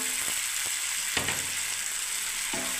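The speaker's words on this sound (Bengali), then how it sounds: "দেখুন আমি এবারে এটাকে মশলাটাকে ঢেলে দিলাম, সর্ষে, বাদাম" Spices, mustard seeds and peanuts crackle and sizzle in hot oil in a close, steady fry. A few sharp clinks of a utensil against the pan cut through.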